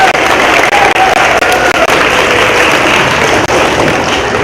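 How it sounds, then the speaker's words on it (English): Steady, dense applause from a crowd at a fifth-grade promotion ceremony, continuous clapping at full volume with no talking over it. "Round of applause for those 5."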